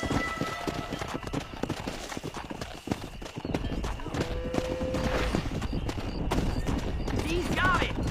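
Horses galloping while herding cattle down a road in Red Dead Redemption, with a steady fast clip-clop of hooves throughout, an occasional whinny, and voices shouting over the hoofbeats.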